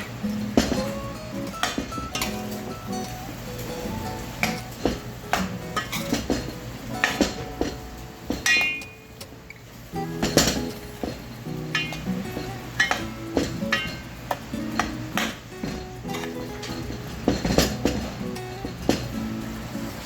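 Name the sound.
stirring blanched mango into curry pot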